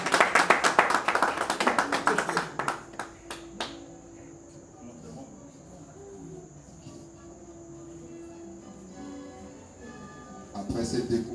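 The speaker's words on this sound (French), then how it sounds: "Nous encourageons le couple Robombé, s'il vous plaît, sous vos applaudissements" Scattered clapping from guests at a family reception, crisp and close for about three seconds, then quiet room murmur with a steady tone, before clapping resumes near the end.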